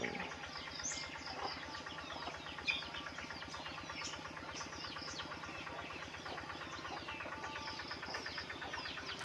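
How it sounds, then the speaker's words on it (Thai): A farm tractor works a rural field near homes and durian trees, its engine chugging in a steady, rapid knocking rhythm. The sound is faint and distant and carries on without a break, with no one talking. "เสียงรถไถนาย"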